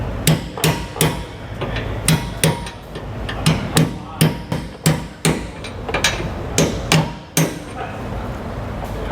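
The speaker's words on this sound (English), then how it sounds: "we're going to drive this out with the bolt" A hammer drives a bolt to push out a leaf spring bushing on a 2022 Grand Design Imagine trailer, with loud close metallic blows struck in quick groups of two or three, repeated steadily.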